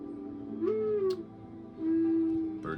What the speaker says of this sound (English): Bird clock, hold on.